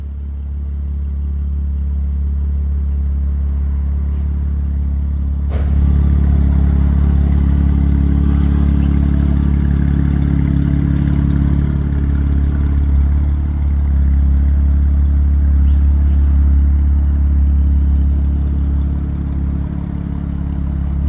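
A 2025 BMW M4 with a Valvetronic Designs aftermarket exhaust drones deep and throaty as it drives, with a sudden knock early on and the low rumble swelling and holding.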